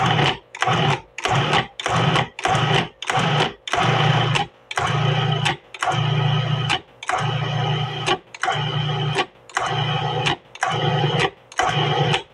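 A loud food processor motor pulses savoury pastry mixture in about a dozen short whirring bursts, separated by brief silent gaps, close by with no talking.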